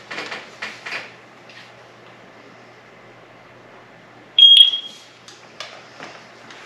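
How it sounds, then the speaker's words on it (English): A single sharp electronic beep from a Eufy Floodlight Cam 2 Pro security camera during setup, clear and close, set against faint room noise and a few soft handling clicks. "Until you hear a beep."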